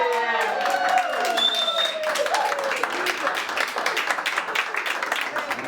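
A live concert crowd at a Telekom venue applauds and cheers for a singer, dense clapping under a loud voice calling out over a microphone.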